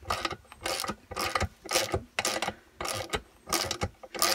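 A 17 mm socket ratchet works loose a Lambretta scooter's engine mount bolt, its clicking strokes coming in loud, close, rhythmic bursts with short pauses between them.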